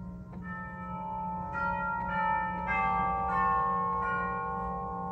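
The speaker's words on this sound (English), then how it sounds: "We also have some chimes." Chimes from a 1996 Guilbault-Thérien pipe organ, sounding from the swell box, strike several bell-like notes in sequence, each ringing on with long, overlapping sustained tones and no voices.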